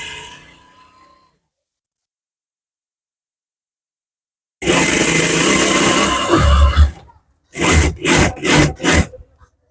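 A sewing machine stitches a narrow seam on fabric for a paneled kali garment. After a quiet pause, one loud, close run of about two seconds is followed by four short, rapid bursts of stitching.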